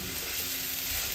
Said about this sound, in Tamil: வெங்காயம் இன்னும் கொஞ்சம் வதங்கணும்.